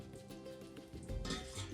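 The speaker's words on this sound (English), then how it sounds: "All right, so this is sizzling." A small piece of dough fries in hot oil before potato-filled papas rellenas, a faint steady sizzle with light clinks of utensils, close.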